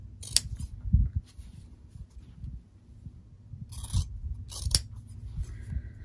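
Scissors trim a fabric seam allowance down to a quarter inch for a fabric pot protector, with a few crisp separate snips spaced seconds apart over a quiet background of soft handling noise.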